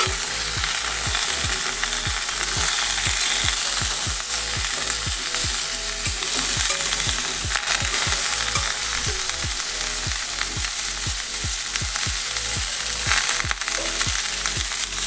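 Taro and pumpkin pieces frying in oil in a pan, a steady loud sizzle with repeated scraping stir strokes throughout, no voices.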